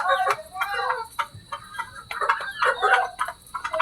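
Four hens and a young rooster cluck and chatter in short bursts close by in a pen, with busy overlapping calls and brief pauses between them.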